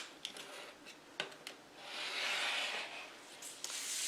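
Quilting fabric pieces are cut close by, a few soft snips and clicks followed by a longer, breathy swishing rub, quiet with no talking.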